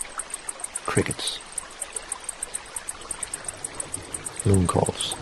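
Steady high cricket chirps pulse evenly through the clip, with a faint trickle of water beneath and a couple of brief low thumps.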